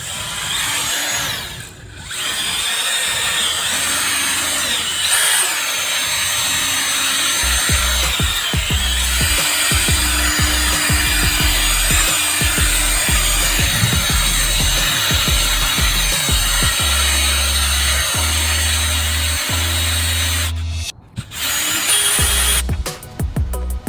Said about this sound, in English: I'm just gonna drill through my center punched hole.